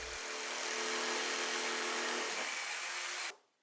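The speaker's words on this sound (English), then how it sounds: "using a jigsaw, cut out the opening" A jigsaw cuts an opening through a faux stone accent wall panel, its steady high, buzzing saw whine running loud and close for a little over three seconds before stopping abruptly.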